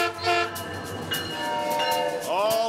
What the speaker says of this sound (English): a Metrolink train pulls away from Burbank Station